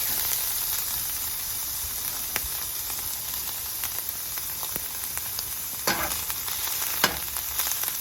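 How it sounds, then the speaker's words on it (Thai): Black trumpet mushrooms stir-fried in oil with onion in a pan, an even, close sizzle broken by occasional sharp spatula scrapes and clicks, no speech. "แล้วก็เอาเห็ดลงไปผัด"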